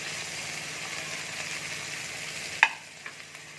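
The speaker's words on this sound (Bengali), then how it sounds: "এবার আমি পেঁয়াজটা দিয়ে দিচ্ছি, ক্যাপসিকামটা দিয়ে দিচ্ছি" Onion and capsicum fry in a pan for an Afghani omelette, a steady close sizzle broken by a sharp clink of a utensil, after which the sizzling settles quieter with a few light taps.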